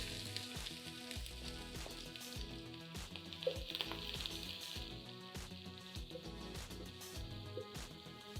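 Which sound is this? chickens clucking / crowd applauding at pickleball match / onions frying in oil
onions frying in oil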